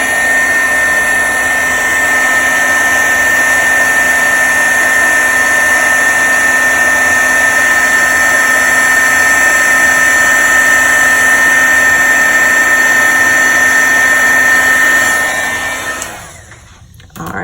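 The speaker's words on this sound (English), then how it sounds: "now we are ready to heat emboss and finish the inside of the card" A heat gun used for heat embossing a card blows with a loud, steady whine and rushing air for about fifteen seconds, then cuts off abruptly.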